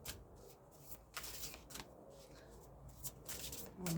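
Oracle cards shuffled repeatedly, a rapid papery riffling in bursts over about four seconds, close to the microphone.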